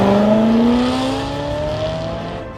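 A BMW E92 M3 with its S65 V8 engine drives past, a loud rising engine note as it accelerates, then fading slightly as it moves away.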